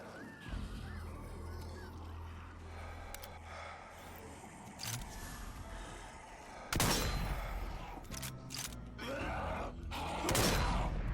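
Gunfire aimed at zombies in the VR shooter Zombie Army VR: sharp, separate shots, a few faint early ones, then louder cracks near the end, set against a low ambient rumble and groaning.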